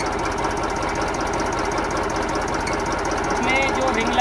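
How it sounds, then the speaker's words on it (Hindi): A Massey Ferguson 1035 DI tractor engine, left out in the rain and used for paddy puddling, runs steadily with a dense, rhythmic diesel knock throughout, close and loud, with some voices faintly underneath. "ट्रैक्टर स्टार्ट है।"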